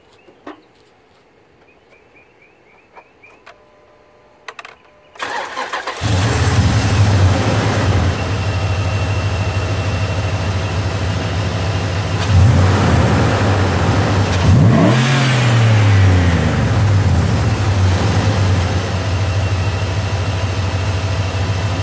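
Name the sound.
modified Dodge Dakota engine starting, idling and revving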